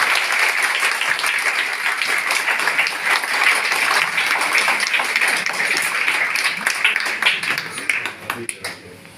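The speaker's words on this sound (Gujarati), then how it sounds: "તો જોરદાર તાળી થઈ જાય, એકદમ જોરદાર." A seminar audience at a product event in Diu breaks into loud, sustained applause, with dense clapping that continues throughout and thins into scattered claps near the end.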